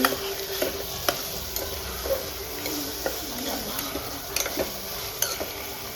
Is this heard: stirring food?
yes